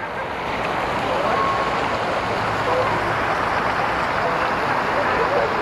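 Water from a garden fountain at the Petronas Twin Towers in Kuala Lumpur at night pours in a continuous, fairly loud broadband rush that holds steady throughout the clip.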